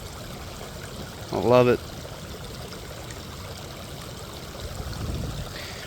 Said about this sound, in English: That sound, the flowing water.